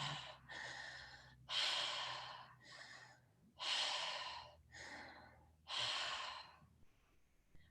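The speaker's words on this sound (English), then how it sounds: "looped breaths in through the mouth and out through the mouth" Repeated loud breaths drawn in and pushed out through the mouth during a guided breathing exercise, about six broad airy bursts in a steady looping rhythm, close and clear with no talking.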